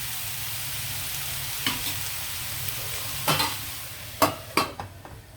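Raw banana and capsicum stir fry cooking in a pan, a steady low sizzle with a handful of sharp spatula knocks and scrapes clustered near the end, close and without speech.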